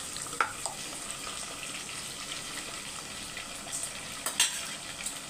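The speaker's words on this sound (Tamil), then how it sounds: "வெங்காயம் கொஞ்சம் வதங்கட்டும்" Onions frying in a pan while cooking a fish curry, a soft continuous sizzle with occasional light clinks and stirring sounds, quiet and close with no talking.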